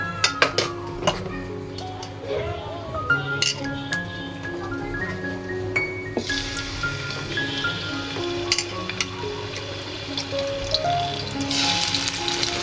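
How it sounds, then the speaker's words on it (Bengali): Chicken pieces frying in hot oil for chilli chicken, a steady sizzle with occasional clinks of a utensil against the pan, growing denser and brighter partway through, close by and moderately loud. "গরম তেলের ভিতরে মাংসগুলো দিয়ে দিচ্ছি।"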